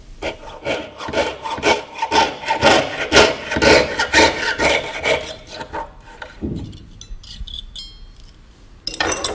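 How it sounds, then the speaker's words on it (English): A saw cuts a metal circle for jewellery in quick, even back-and-forth strokes that rasp loudly and close up for several seconds, then stop, leaving quieter scattered handling sounds. "now that I've got the circle sawn out"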